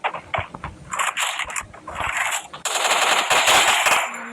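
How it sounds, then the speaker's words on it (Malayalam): Automatic gunfire from the Free Fire Max video game rattles in rapid sustained bursts, loud and close, turning into a denser, more continuous volley partway through with no talking. "അവിടുന്ന് ഒരു വെടി"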